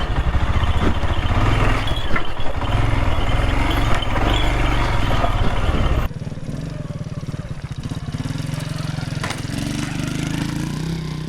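A 110cc motorcycle labours up a steep, rocky mountain track in La Rioja, its engine droning loud and close with rapid firing pulses, then dropping abruptly to a lower, quieter strained note partway through.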